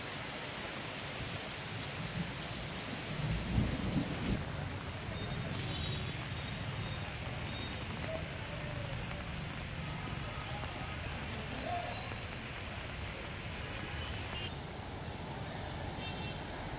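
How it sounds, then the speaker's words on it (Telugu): Heavy rain pours steadily during a thunderstorm in Hyderabad, a continuous soft hiss of downpour with a brief low rumble near the start. "ఉరుములు మెరుపులు పిడుగులు జోరు వాన"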